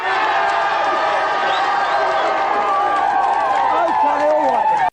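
A game show studio audience cheers for the leading team in a 1990s video game championship, a dense, sustained roar of many voices shouting and whooping for about five seconds.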